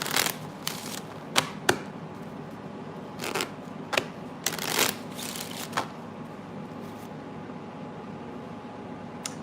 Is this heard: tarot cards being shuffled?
yes